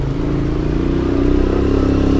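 Small motorcycle ridden along a busy road in Antigua Guatemala, its engine droning steadily and close with a rough, rattling low hum that holds even throughout.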